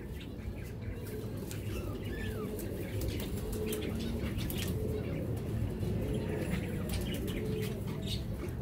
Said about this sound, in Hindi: पुरानी हवा में है कबूतर